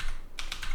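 Quick, light clicks of typing on a computer keyboard, three crisp keystrokes in rapid succession, heard close up.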